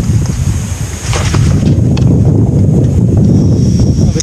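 Strong wind buffeting an outdoor microphone on a motorcycle trip in the Gorges de la Nesque, a loud, continuous low rumble with gusty swells that runs steadily through the whole stretch.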